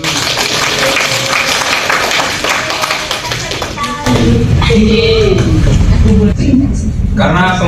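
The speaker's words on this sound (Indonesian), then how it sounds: "Tepuk tangan dulu." Classroom applause during a biology peer-teaching lesson, a burst of quick hand claps and tapping mixed with voices, loud and close, then shifting into livelier chatter.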